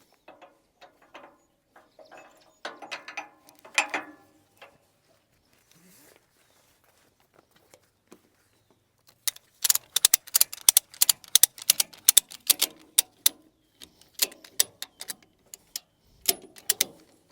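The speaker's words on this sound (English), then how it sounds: "But we can put ratchet straps up front." A ratchet strap is cranked tight to secure a tractor's 3-point implement for hauling. Scattered clicks come first, then a fast run of sharp, close ratcheting clicks in bursts. A voice speaks faintly early on.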